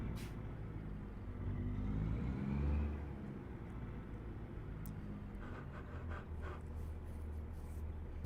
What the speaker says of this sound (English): My truck's making some sounds. Sounds like it needs to be repaired.